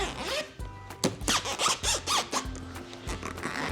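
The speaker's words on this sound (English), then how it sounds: "This is a zipper we're gonna use to open the awning." The zipper on the bag of an Alu-Cab awning on a Toyota Tundra overland truck camper is pulled open in several short squeaky rasping strokes with brief pauses between them, close and fairly quiet.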